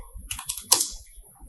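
Quick keyboard key presses clatter close by, a short burst of several clicks with one sharper tap near the middle.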